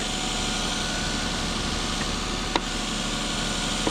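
A Lexus car engine runs at a steady idle, a faint continuous hum with one brief knock partway through.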